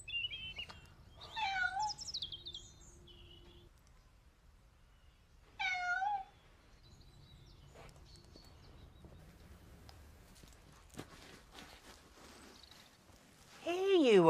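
A white cat meows several times in short, rising and falling calls spread across the stretch, with quiet background sounds between them.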